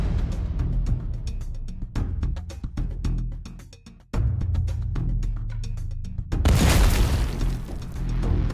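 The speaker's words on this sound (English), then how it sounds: "The explosion sounded again, and a lot of smoke and dust came out of the entrance." An explosion inside a bunker, set off by a drone: muffled thuds and crackles build into a heavy blast that swells into a dense rushing roar near the end.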